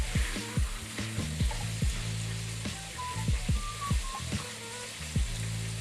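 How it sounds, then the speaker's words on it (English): Chicken crackles and sizzles in hot oil, with a steady bubbling hiss and frequent sharp pops and spatters; no one speaks. "about 5 minutes into the chicken frying"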